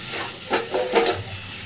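Spices and ingredients sautéed in fat for ghugni, a steady close sizzle with soft stirring scrapes swelling briefly a couple of times, no voices.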